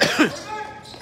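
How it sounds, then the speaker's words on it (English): One sharp, close cough during a high school basketball game, quickly fading into a short rasp of breath. "Sorry about that, folks. Having a coughing attack here."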